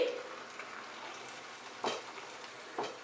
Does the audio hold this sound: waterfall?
no